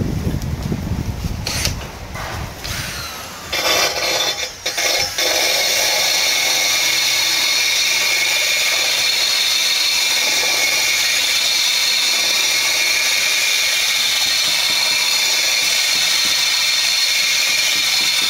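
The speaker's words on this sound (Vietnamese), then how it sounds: "mình phải khoan lỗ mà tại ngay cái ống nước" A power drill bores a hole beside a water pipe during bathroom renovation work, a loud sustained high-pitched whine after a few seconds of clattering handling and short bursts.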